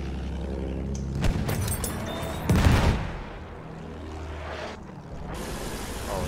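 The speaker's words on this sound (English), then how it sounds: "there's somebody shooting AA rockets at us from too far away" Anti-aircraft rockets fired at aircraft in the Battlefield 1 Heligoland Bight map, heard as a droning propeller engine broken by a couple of loud bursting booms near the middle, then a steady rumbling drone.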